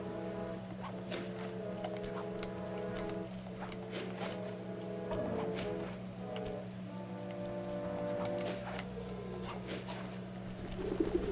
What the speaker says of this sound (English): Get away from me, pigeon.